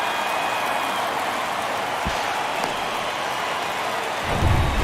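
Crowd noise at a baseball stadium in the video game MLB The Show 23, a steady, dense roar with a few brief louder swells.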